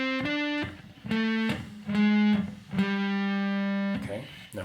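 Electric guitar playing a riff, a run of distinct, slightly distorted single notes with a few held tones, close and alone.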